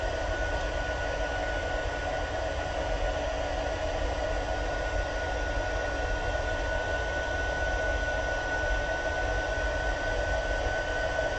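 A heat gun blows steadily while heat-setting embossing powder, a faint, even fan hiss with a thin high whine that stays unchanged for about eleven seconds, with no talking.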